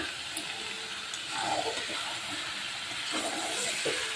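Washed chicken pieces go into fried masala in a pan, giving a broad, steady hiss of sizzling that swells slightly midway and holds close and even without talk.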